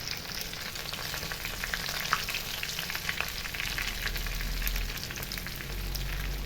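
Curry leaves fry in hot coconut oil, giving a dense, continuous crackling sizzle with fine spitting pops, close and steady throughout with no voices.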